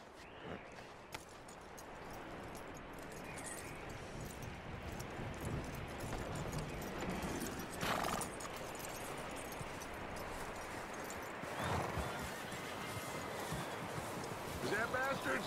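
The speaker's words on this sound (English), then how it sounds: "That looks like a decent horse." Horse hooves clip-clopping in Red Dead Redemption 2 make a steady, fairly close rhythmic patter over outdoor ambience and rustling, with no voices clearly audible over it.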